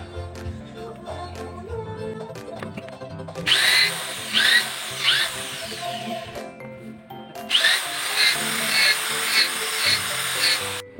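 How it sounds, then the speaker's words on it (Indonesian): A power drill bores holes in an egg incubator tray in two loud bursts of whining, pulsing motor noise, separated by quieter stretches with faint clatter, close to the listener. "udah saya bor semua nih ya, udah kelihatan ya lubang-lubangnya ya"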